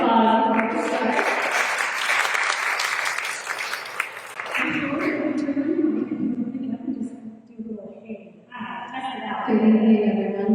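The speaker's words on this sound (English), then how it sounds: "let's give Helen a round of applause before we start" An audience bursts into dense applause for Helen, an artist, at an evening art event; the clapping lasts a few seconds, then a single voice starts speaking to the room.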